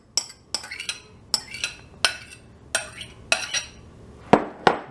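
A utensil scrapes and clinks against a dish while mixing chicken pot pie filling of potatoes, celery and onion, about a dozen close, sharp taps and scrapes in an uneven rhythm, with no talking.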